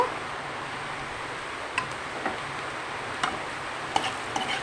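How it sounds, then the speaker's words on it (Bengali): Onions frying in oil with a little turmeric for a rohu fish curry make a low, constant hiss with a few faint ticks and scrapes scattered through. "লাল লাল করে ভেজে নেব এগুলি অল্প হলুদ গুঁড়ো দিয়ে দেব"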